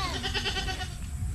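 A goat on a small farm plot gives a short, quavering bleat at the start that fades into low outdoor rumble, moderately close.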